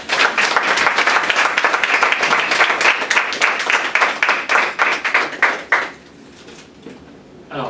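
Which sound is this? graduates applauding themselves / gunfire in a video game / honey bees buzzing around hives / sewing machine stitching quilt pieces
graduates applauding themselves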